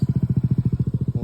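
A motorcycle engine idles close by, a loud, steady low chugging pulse beating rapidly and evenly throughout with no voices.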